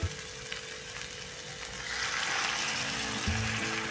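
Onion and tomato cook in oil after water is poured in, giving a soft, steady sizzle and bubbling that swells partway through, with faint stirring clinks and no talk.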